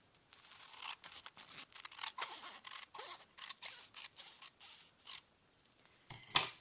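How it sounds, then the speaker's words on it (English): Scissors trimming a paper page for a handmade junk journal, a close series of soft snipping and rustling cuts in an uneven rhythm, then a pause and a sharper crisp cut at the end. "Might have to trim that down a bit more."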